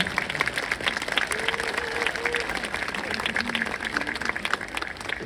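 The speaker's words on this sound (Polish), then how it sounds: "Poproszę o brawa za tą część." A crowd applauds steadily for several seconds while a voice carries on over the clapping, at a military working dog demonstration in Kraków.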